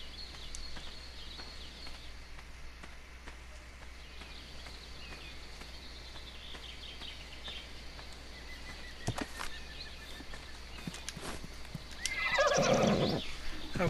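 A unicorn neighs in ARK: Survival Evolved over a steady outdoor ambience with faint hoof thuds. A loud, close whinny comes near the end.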